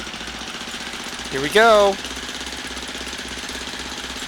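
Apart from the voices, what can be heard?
Wright Flyer engine running, X-Plane flight simulator video game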